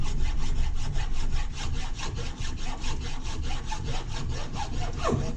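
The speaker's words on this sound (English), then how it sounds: "just grind her down like that. Little by little. It's aluminum. It's gonna come down." A grinder or file works down an aluminum control arm on a Z06 Corvette, a loud, steady rasping pass after pass in rapid repeating strokes, close and continuous with no talk.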